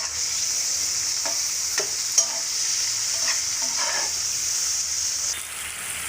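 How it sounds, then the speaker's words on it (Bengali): Onion and tomato fry in oil in a pan, a continuous hiss of sizzling with a few scraping stirs and clinks, close and steady, fading slightly at the end. "তো পেঁয়াজ আর টমেটোটা হচ্ছে ভেজে নিব।"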